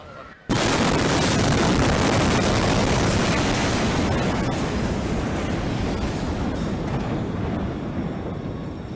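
A loud, sustained roaring blast in played-back audio begins abruptly after a short quiet moment and rumbles on as dense, broadband noise for the rest of the stretch, easing only slightly toward the end.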